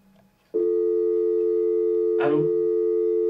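A steady telephone dial tone comes on abruptly after a brief low hum, holding loud and unbroken once the caller has hung up, with a short burst of noise partway through.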